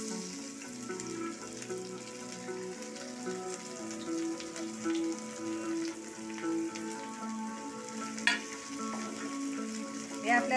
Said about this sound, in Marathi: मी आता कांदा टाकते आतमध्ये।